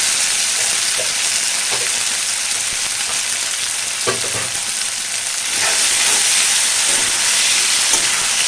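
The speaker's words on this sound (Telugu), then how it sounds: "అల్లం వెల్లుల్లి పేస్ట్ కొంచెం వేగిన తర్వాత తరిగి ఉంచుకున్న టమాటా ముక్కలు వేసుకోవాలి." Chopped tomato pieces frying in a pan with ginger garlic paste for an egg tomato curry give a steady, close sizzling hiss with a few soft stirring clicks and bubbles, and no talking.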